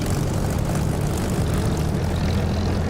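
A Spitfire's propeller engine roars at takeoff power in the DCS flight simulator, a loud, dense, steady drone with a throbbing low rumble and no break for the whole stretch.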